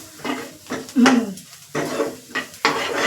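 A kachori filling of spices with fennel and chaat masala is stirred and fried in a pan, giving a soft sizzle under repeated scraping and clinking of a spoon against metal in uneven bursts, no talking.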